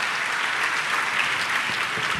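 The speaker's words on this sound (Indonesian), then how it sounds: "Tepuk tangan yang paling meriah buat Tuhan." A church congregation breaks into lively, sustained applause during a sermon, a dense uniform wash of many hands clapping at once, fairly close and loud throughout.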